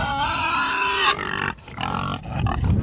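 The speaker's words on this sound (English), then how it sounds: "feed those hungry pigs" Hungry pigs on a homestead grunting and squealing loudly while fed whey, a dense close chorus with short breaks between bursts.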